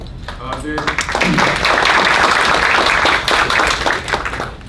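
Audience applause at a university school of education inauguration, dense steady clapping filling the hall for several seconds after a voice at the start.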